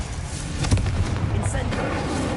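A Confringo blasting spell exploding in Hogwarts Legacy: a couple of booming bursts over rumbling game ambience, fairly loud and close, with no talking.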